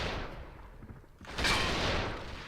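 A single burst of gunfire cracks out midway through a quiet moment in the competitive shooter AVA, sounding faint and somewhat distant.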